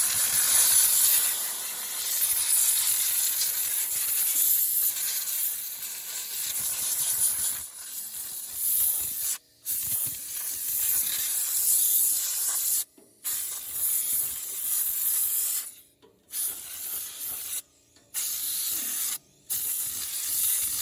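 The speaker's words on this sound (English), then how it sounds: "I will take the old air hose and" Compressed air from an old shop hose blasts debris out of a Ford 8N tractor in a barn, a loud steady hiss broken by several short pauses where the air is cut off and restarted.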